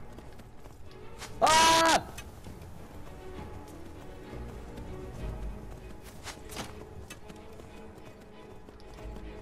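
Horse hooves clop along steadily at moderate volume in Skyrim, beneath ongoing game ambience, with a brief loud shout near the start.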